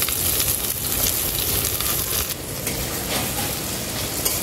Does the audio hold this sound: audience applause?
no